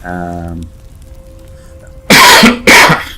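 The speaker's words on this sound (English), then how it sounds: "excuse me again for coughing." A brief steady tone fades into quiet, then two loud, harsh coughs burst out close by in quick succession.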